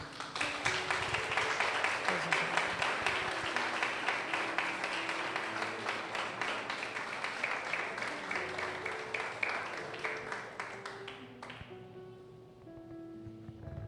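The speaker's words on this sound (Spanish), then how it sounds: "Dale un aplauso al Señor" Church congregation claps steadily through a Spanish-language sermon service, a dense, even wash of hands with soft sustained keyboard tones underneath, the clapping stopping abruptly near the end to leave the music alone.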